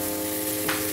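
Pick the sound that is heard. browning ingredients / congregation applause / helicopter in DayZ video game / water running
browning ingredients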